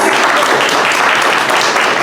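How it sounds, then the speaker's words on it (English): Audience applause at a lender panel event in Salinas, California: dense, steady clapping from a crowd of attendees, loud and continuous throughout with no pauses. "Can we give a round of applause?"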